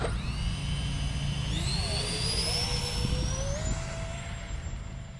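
An Eflite A-10 RC plane with twin 64mm electric ducted fans spools up for takeoff, a loud, steady high-pitched whine rising in pitch as the fans accelerate, with a rumbling ground roll underneath.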